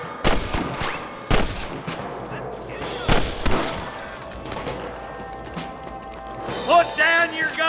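Gunfire erupts in a Red Dead Redemption shootout: several sharp, loud shots crack in irregular bursts, with ringing tails, over game ambience, while voices shout.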